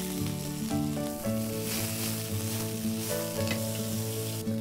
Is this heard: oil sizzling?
yes